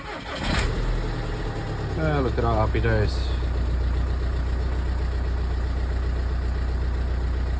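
A VW diesel car engine cranks and catches after a cambelt change, then settles into a steady low idle while someone speaks briefly over it.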